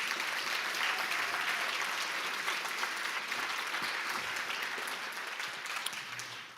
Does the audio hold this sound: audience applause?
yes